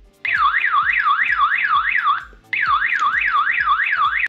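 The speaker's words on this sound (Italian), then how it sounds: "un allarme per situazioni di emergenza" Emergency alarm on a W29 Pro smartwatch: a loud, rapidly warbling electronic tone pulsing in two bursts with a brief gap between them, alone with no talk.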